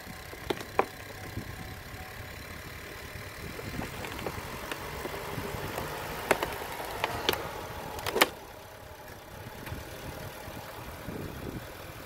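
A 1.5L engine in a 2018 Chevrolet Malibu runs quietly at idle after a spark plug replacement, a low steady hum partly masked by gusting wind.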